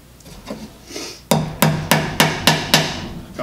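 Hammer tapping a nail into wood while building an open mesh beehive floor: a few soft taps, then five sharp, evenly spaced strikes, close and loud.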